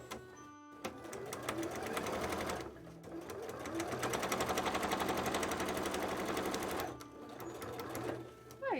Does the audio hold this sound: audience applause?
no